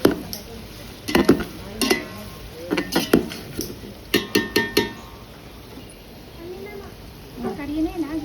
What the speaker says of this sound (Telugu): అడుగంటకుండా కలుపుకుంటూ ఉండాలి కూరగాయల ముక్కలు.